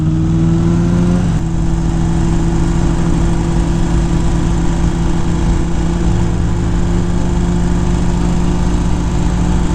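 A motorcycle engine drones loud and steady while the rider travels through the Sierra foothills on a group ride, with a constant humming tone and no pauses.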